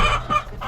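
Pet chickens in a coop let out a brief, close burst of clucking, just a couple of quick notes.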